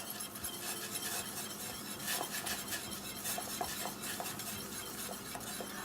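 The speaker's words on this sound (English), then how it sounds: "Always use a whisk because it keeps the grits from lumping up." Grits whisked into a pot of boiling water on a stovetop, giving a steady close scraping and swishing with quick metallic clicks of the whisk against the pot, continuing throughout without talk.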